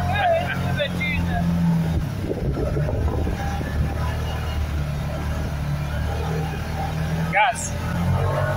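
An off-road vehicle engine drones and accelerates while driving over the desert sand dunes of Erg Chebbi. The steady, low, loud hum continues with wind buffeting, and voices talk over it throughout.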